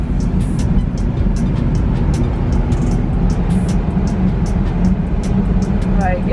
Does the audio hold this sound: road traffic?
yes